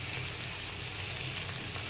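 Hilsa fish fries in hot oil in a pan, a dense, even sizzle heard up close and alone for the whole stretch.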